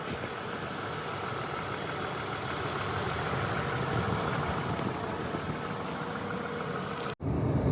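A BMW Z3 engine idles steadily with a constant, rumbling drone, close by, interrupted only by a brief dropout near the end.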